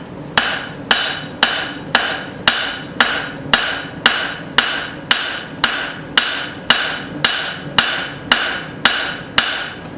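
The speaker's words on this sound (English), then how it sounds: "I'm going to go ahead and clean all that up with my finishing hammer" A finishing hammer strikes a short-bodied tomahawk head in steady forging, about twenty evenly spaced ringing blows, close and loud, with no talking.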